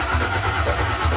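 A built truck engine cranking and catching, a loud, steady rough rumble close by with a throbbing low-end pulse throughout.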